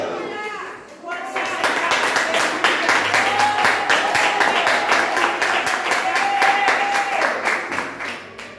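Church congregation applauding, a loud sustained burst of many hands clapping that swells after a brief quieter start, with some voices and sung or shouted tones mixed in beneath.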